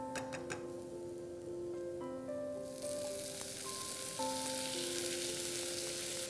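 Chopped tomatoes sautéing in oil with golden-browned garlic, a steady close sizzle that swells louder after the tomatoes hit the pan, with faint ticking and scraping of stirring.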